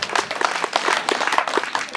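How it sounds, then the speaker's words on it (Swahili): A crowd at a Kenyan primary school event claps for the school principal. The applause is dense and steady, made of many close, overlapping hand claps, and lasts the whole moment. "Makofi kwa principal."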